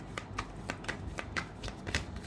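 Tarot cards being shuffled by hand, a quick run of crisp riffling flutters repeating in an even rhythm, close and moderately quiet.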